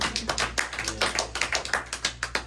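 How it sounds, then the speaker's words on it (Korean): A small audience claps to welcome a writer at a special literature and arts lecture, a brief burst of sharp, close hand claps in quick irregular rhythm. "박수 한번 환영하시고요"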